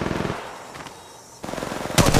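Automatic gunfire rattles in a squad-based shooter video game, rapid bursts close and loud, pausing briefly mid-clip before resuming and ending in an even heavier burst.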